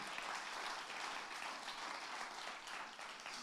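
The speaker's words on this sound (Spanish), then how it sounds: "Le dan un fuerte aplauso a su Dios." A church congregation breaks into sustained applause, a thick, even roar of many hands clapping together throughout, heard from a distance without speech on top.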